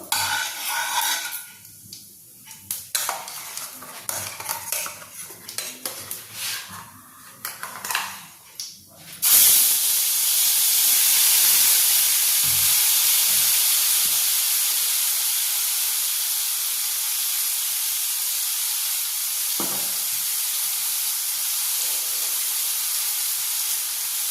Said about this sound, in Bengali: এবার যে মশলাটা আমি বেটে রেখেছিলাম সেটা আমি এর মধ্যে দিয়ে দিচ্ছি।